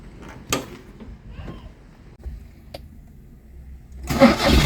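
A Ford Aspire three-door car starts up after a few faint clicks and a door thud, and the engine catches near the end with a loud rising rumble.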